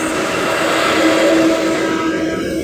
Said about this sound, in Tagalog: Ingay ng mga truck.